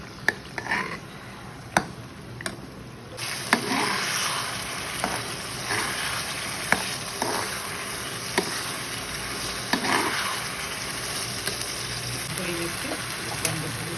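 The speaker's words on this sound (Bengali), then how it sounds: "এখন আমি এটা ভালো করে নেড়ে নেব কষিয়ে দিচ্ছি" Ground cumin paste and spices stir-fried in a pan for a beef tripe dish sizzle steadily, with a spatula scraping and clicking against the metal every second or so, close and fairly loud.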